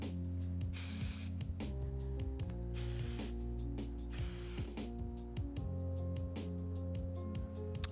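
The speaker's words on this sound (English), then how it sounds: "holding it about 7 or 8 inches away, just spraying it through the top" GO24•7 Control hair spray is spritzed from about seven or eight inches onto a man's hair in a barbershop, giving three short loud hissing bursts amid rattling mechanical clicks from the pump nozzle.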